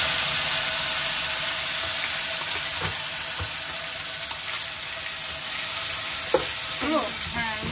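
A paste of onion, garlic, ginger and green chilli sizzles loudly in a hot pan with steady frying hiss, a few stirring scrapes near the end, no talking.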